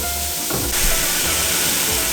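Vegetables cook in a hot pan with a loud, continuous sizzling hiss, close and steady, while low thuds of stirring come and go beneath it.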